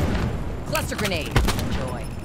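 Cluster grenade explosions in a video game land as a quick string of sharp pops and cracks over a steady background din, one louder hit standing out near the end.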